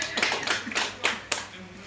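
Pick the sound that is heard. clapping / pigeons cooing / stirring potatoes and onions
clapping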